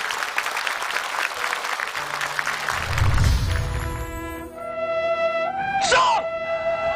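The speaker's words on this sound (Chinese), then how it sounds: "掌声有请三位" Studio audience clapping to welcome three guests, a director and two actors, onto the stage of a Chinese televised arts tribute show; applause fills the opening seconds, then gives way to dramatic music with sung or declaimed lines.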